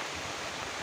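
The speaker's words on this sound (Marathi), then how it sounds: "आता छोटीशी नदी अशी आहे इथे" A small river in the hills near a village waterfall flows in a steady, broad wash of running water, continuous and moderately close, with no voices.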